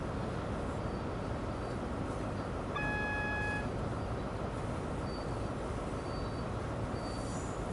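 A train in Train Sim World slows toward a platform under a steady, loud rolling rumble, with a short high beep or tone sounding midway through.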